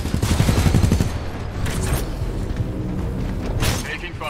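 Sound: gunfire in Titanfall 2 video game

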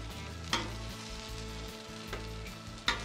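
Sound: chicken wings sizzling on a Blackstone griddle

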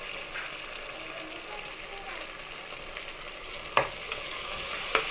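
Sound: mint and coriander frying for mushroom biryani

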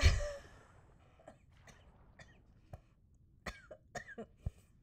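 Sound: coughing

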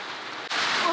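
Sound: hail falling

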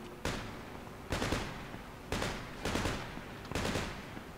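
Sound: gunfire in a video game

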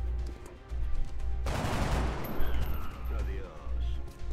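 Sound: gunshot in X-COM Enemy Within video game

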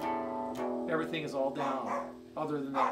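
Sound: dog barking

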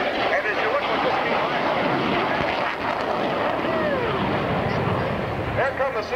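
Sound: CF-101 Voodoo jet fighters flying by

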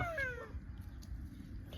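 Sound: cat meowing

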